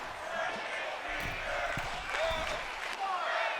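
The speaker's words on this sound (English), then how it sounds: "this Puerto Rican crowd chanting, break his fingers" A Puerto Rican crowd chants steadily in a wrestling video game match between CM Punk and a former UFC fighter, a broad roar of voices with scattered thumps from the ring.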